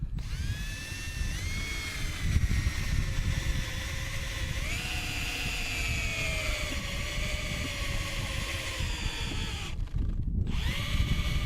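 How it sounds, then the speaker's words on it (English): A power drill with a small bit bores holes into the old wooden handle stuck in a sledgehammer head, a steady high whine that shifts pitch under load, briefly stopping and restarting near the end. "I'm going to take my drill and a small bit, and I'm going to drill some holes."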